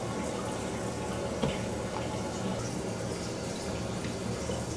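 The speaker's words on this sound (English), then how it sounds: "Now we can turn back the water supply down there for the tank" Water runs steadily into a refilling toilet tank once the supply valve is reopened, a quiet continuous hiss and trickle with faint gurgling throughout.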